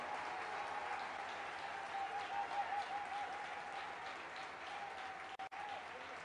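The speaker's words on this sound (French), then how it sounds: "Now is the good time for you to clap your hands" A congregation applauds during a church lecture. The clapping is a faint, distant, steady wash of many hands that holds for several seconds with a brief dip near the end.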